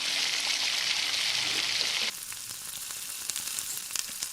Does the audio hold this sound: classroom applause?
no